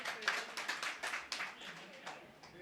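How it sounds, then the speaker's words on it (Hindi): An audience at a Hindi-Punjabi poetry gathering breaks into a short burst of clapping, with uneven, overlapping claps lasting a few seconds at a moderate level. "एक बार तालियों से।"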